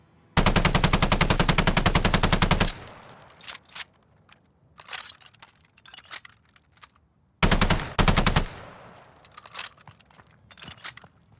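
A KG M40 machine gun in Call of Duty: Vanguard fires two loud, rapid bursts, one long run of about two seconds and a shorter one later, with quieter clinks and handling noises between.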